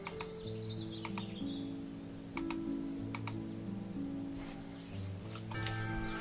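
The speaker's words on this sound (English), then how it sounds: "I'm clicking through some of these too fast" Rapid mouse or keyboard clicks skip through dialogue in the video game The Great Crow. The sharp, irregular clicks sit over the game's soft layered background tones and chimes.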